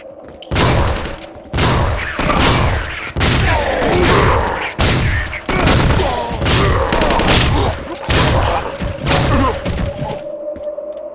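Shotgun fire in the video game Vivisector: Beast Within, with about a dozen loud, booming blasts coming one after another at an uneven pace, each followed by a short rumbling decay, along with creature noises and thuds between the shots.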